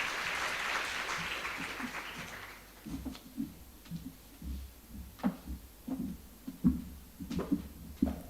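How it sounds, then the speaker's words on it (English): Audience applause at a strategic forum event, a brief burst of clapping that fades into scattered, faint individual claps and soft room noise. "Mr. Chamat Sirivardhana, for his presentation with a round of applause."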